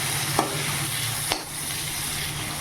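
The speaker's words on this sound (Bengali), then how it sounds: "এই যে কাঁচকলা ভাজাটা চাপিয়ে দিলাম" Green banana slices fry in a pan with a steady, moderate sizzle, broken by two brief stirring scrapes; no one speaks.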